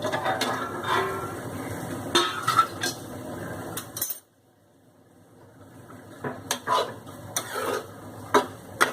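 Cooked sprouted mung bean curry stirred in a pot with a spoon: repeated scraping and clinking strokes, a brief pause of near silence midway, then more stirring knocks and scrapes, close up with no voices.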